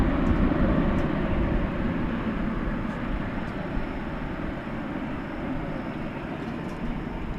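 A passing airliner on the flight to Fiji at DFW International Airport, a steady broadband roar that holds loud and even throughout, slowly easing slightly toward the end, with no voices.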